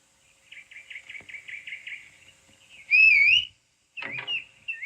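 A person whistles a quick series of short repeated notes, then a louder rising and falling whistle, followed by another brief whistled phrase, close and clear.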